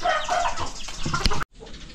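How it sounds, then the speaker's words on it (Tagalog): Chickens on a poultry farm cluck and squawk close by, several birds calling over one another before an abrupt cut, then softer clucking continues, with no talk. "Okay naman sila, mga manok natin."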